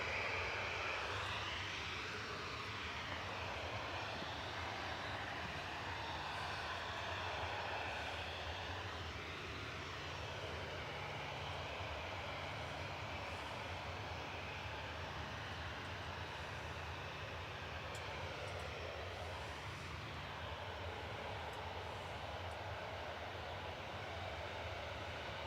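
Jet2 flight LS 939 climbs out of Manchester Airport for Austria, its distant engine rumble faint and steady throughout, with a drifting wash of jet noise and no one talking.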